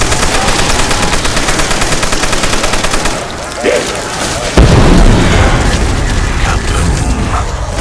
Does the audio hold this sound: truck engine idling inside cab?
no